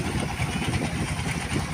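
A boat engine running on a river trip, a steady, close, loud mechanical drone with a faint rhythmic throb and no voices.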